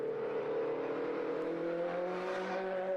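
A Mark 1 Ford Escort race car in the Modified Fords race at Oulton Park, its engine a distant, steady whine that sweeps past at moderate volume, with no voices over it.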